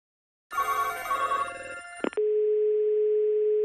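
Telephone tones on a prank call: a busy ringing jangle of layered bell-like tones, a brief clunk, then a steady, loud, unbroken electronic tone to the end, with no talk.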